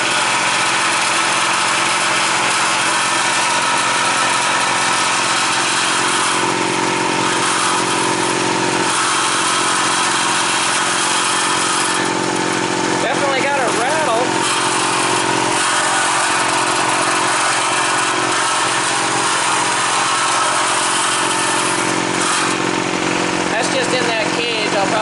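A secondhand Snap-on air compressor runs in a steady, loud, close drone with a faint rattle, holding an even mechanical hum for the whole stretch.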